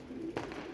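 Female pigeons in a loft give a short soft coo, a brief low warble rising once mid-way, faint and close with no voices.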